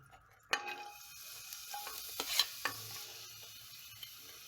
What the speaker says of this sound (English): you can go ahead and put the onions into this nicely